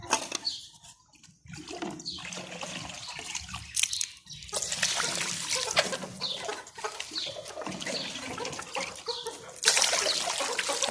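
Hens clucking and squawking around a person working in a summer hen yard, with water being poured; busy, irregular clucks and cackles close by, some louder bursts over a splashing, noisy background.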